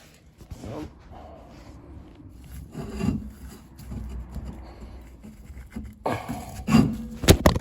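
Brake shoes scrape against the hub of a 1988 Golf as the wheel is spun by hand, giving close, uneven rubbing and rasping bursts that swell and fade, with a louder scrape near the end.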